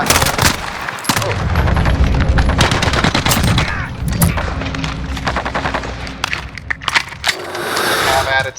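Rapid automatic gunfire from an Evo Scorpion and a light machine gun in Modern Warfare 2019, loud close bursts and rattling volleys repeating throughout, with a voice talking over the shooting.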